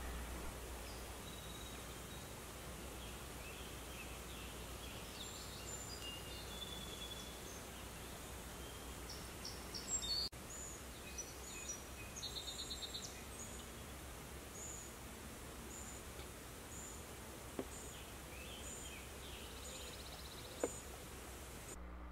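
Faint outdoor ambience at a campsite in Woodstock, New York, with scattered chirps from birds and insects over a soft hiss, with an occasional rustle.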